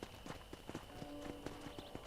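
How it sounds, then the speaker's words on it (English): Horse hooves clip-clopping at a steady rhythmic pace while riding in the video game Red Dead Redemption, fairly faint, with a few sharper hoof strikes over a quiet background. "let's see if you can still ride a horse"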